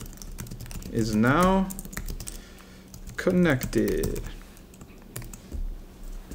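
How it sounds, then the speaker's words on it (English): Fingers type on a Bluetooth keyboard paired with an iPad, a steady stream of quick close clicks running under a person's speech. "I'm going to go ahead and start typing."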